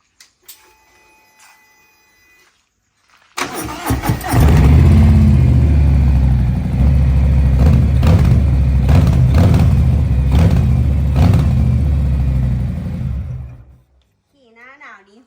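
After a quiet start, a 2021 Harley-Davidson Street Bob roars loudly through its Vance & Hines exhaust for about ten seconds, revving with a deep rumble before cutting off.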